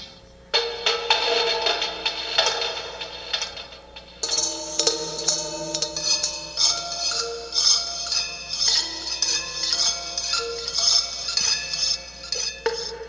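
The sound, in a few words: long strings on homemade instrument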